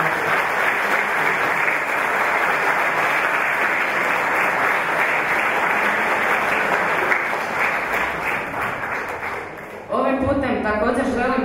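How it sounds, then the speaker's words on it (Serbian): An audience at an evening village stage performance with music, dance and song claps in loud, sustained applause for about ten seconds, then it fades and a voice begins speaking. "te vas još jednom molim aplauz za sve koji su večeras sudjelovali"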